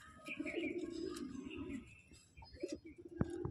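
Andhra or Chennai breed pigeon, a tight-tailed bird, gives soft low cooing that holds for over a second, then fades and returns as a short closer coo near the end, with no talk.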